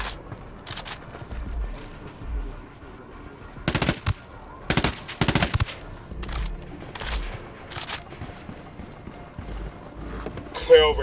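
Gunfire in a military PC shooter, with sharp bursts of shots around the middle and several scattered single reports, mixed with game sounds and talk.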